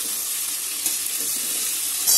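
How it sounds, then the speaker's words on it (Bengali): Tomato frying in a pan for a Bengali aloo-dal dish gives a bright, even sizzle up close, with faint stirring movement and a short clatter at the very end. "টমেটোটা দিয়ে একটু নেড়ে নিয়েছি"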